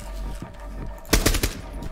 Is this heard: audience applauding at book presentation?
no